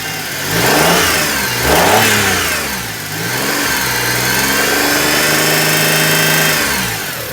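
A long-stored barn-find car's engine idles and revs, rising and falling twice before settling into a steady, smooth running hum, close and loud.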